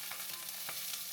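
Sliced onions hit a very hot pan and fry in a continuous, bright hissing sizzle, with a few soft stirring scrapes and no talk.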